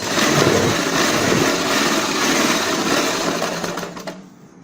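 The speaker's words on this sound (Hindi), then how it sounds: "इस प्रकार फोल्ड करते जाएंगे बराबर नेफा और सिलाई लगाते जाएंगे" A sewing machine stitches a folded salwar waistband in one continuous, close, loud mechanical whirr that stays even and then winds down and stops near the end.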